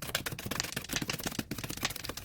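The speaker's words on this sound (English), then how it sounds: "One more shuffle over here." Tarot cards are shuffled in a dense, rapid rattle of riffling and flicking card edges, close but fairly soft, steady for about two seconds with no talking.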